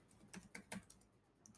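Several quick keystrokes tapped on a computer keyboard, a short irregular burst of clicks followed by a pause and one last key press, close and fairly quiet.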